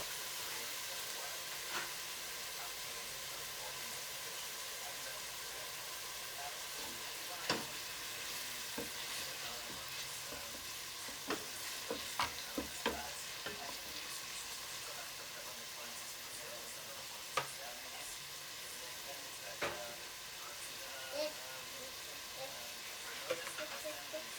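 Onions frying in sunflower oil for a Nile perch stew: a steady, moderate sizzle and hiss with occasional spattering pops and stirring clicks throughout.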